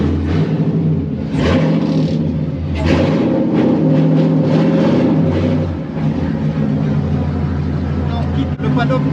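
A Nissan S14 Rocket Bunny drift car rumbles and revs steadily as it pulls out of the paddock, its engine loud and close throughout, with the pitch rising and falling under talking voices.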